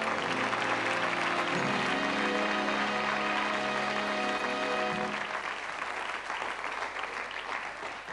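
A studio audience at a 1988 television show applauds as guests cross the stage, a broad wash of clapping with music playing beneath it that fades after a few seconds.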